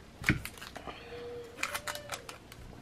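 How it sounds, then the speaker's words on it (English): Craft tape is pulled from a dispenser and pressed onto a foiled paper envelope, with brief crackly tearing bursts, a drawn-out peeling squeak in the middle and soft handling clicks, close and alone. "I am going to put a piece of tape"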